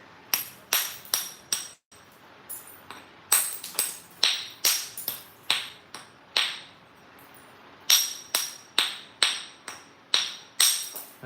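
Flint knapping to take out a seam, with sharp, ringing stone-on-stone strikes landing in quick bursts of several blows. Short pauses separate the bursts, and each hit rings close and loud with no talk.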